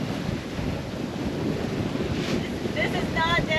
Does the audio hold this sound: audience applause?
no